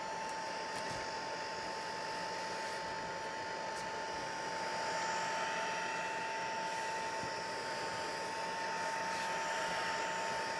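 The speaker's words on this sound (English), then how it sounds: "So you can use your heat gun as well at this point, just to try and make sure that it's definitely dried onto the plate." A heat gun blows hot air over acrylic paint on a gel printing plate, a loud, constant whooshing roar with a steady whine that holds for the whole stretch, up close and with no talk.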